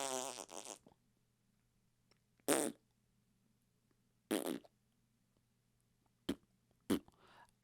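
A man imitates a fart with his voice, several separate raspy bursts with gaps between them, following a longer buzzy blown sound at the start, fairly loud against a quiet background with a low steady hum.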